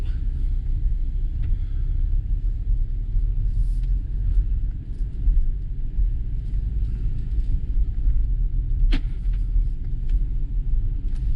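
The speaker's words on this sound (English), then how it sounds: "Test drive in the Alfa Romeo" Cabin of an Alfa Romeo Stelvio with 125K miles on a test drive: a steady low road and engine rumble fills the cabin throughout, with a brief sharp knock near the end and no talking.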